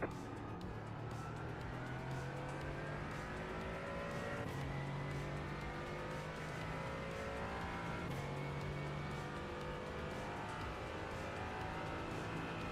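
A Mercedes AMG GT4 race car in the iRacing game howls continuously through gear changes, engine pitch climbing and dropping in repeated sweeps, steady and prominent with no talking.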